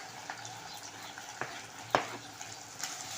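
Onion and tomato sauté in a pan over high heat, giving a steady low sizzle with a few sharp spatula scrapes and taps against the pan.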